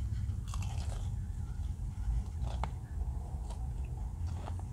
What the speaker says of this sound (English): It's really crunchy on the outside.